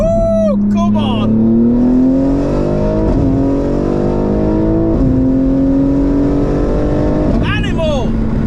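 A 1000 hp BMW G81 M3 engine roars through repeated hard accelerations, its pitch climbing through gear after gear, loud and close, with excited shouting from people inside over it.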